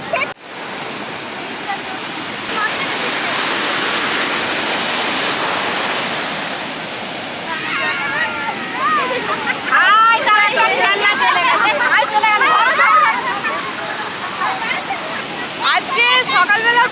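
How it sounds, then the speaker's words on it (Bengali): Heavy ocean surf at Puri Golden Beach roars in a constant broad wash, with a crowd of beachgoers chattering and shouting in the background as the waves crash. "প্রচণ্ড ঢেউ মানে ওপরে যে নৌকা যেখানে থাকে সবাই বসে এমনিতে যেখানে জল ওঠে না সেখানেও জল উঠছে"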